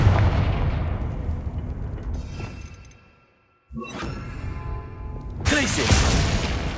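Confringo blasting spell in Hogwarts Legacy, loud booming blasts with whooshing bursts, a sudden drop to near silence mid-way, then another burst and a harsh loud eruption at the end.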